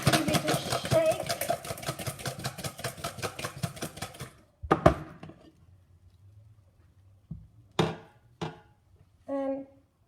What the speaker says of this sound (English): You can cover them with the lid and then just give it a shake.